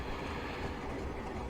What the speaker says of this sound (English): the weight of the train is making it quite slow to accelerate to anything